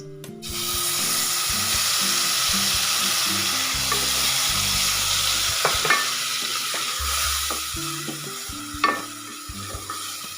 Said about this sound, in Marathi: हे वाटण चांगलं आपल्याला परतून घ्यायचं आहे